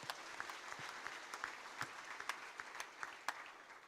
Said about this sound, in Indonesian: Berikan tepuk tangan yang meremut